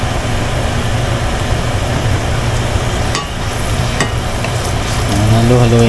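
Garlic frying in oil for chili garlic oil, a loud steady sizzle throughout with occasional scraping clinks of stirring and a low hum rising near the end.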